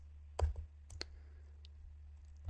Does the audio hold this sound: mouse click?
yes